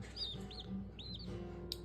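Eight chickens clucking and calling from inside a carrier, several short squawky calls and rising chirps overlapping at close range above a low background hum, no talking.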